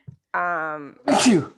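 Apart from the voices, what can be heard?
sneeze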